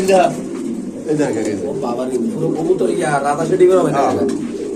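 Pigeons coo repeatedly at a busy pigeon market, close soft throaty calls mixed with people talking and bargaining nearby.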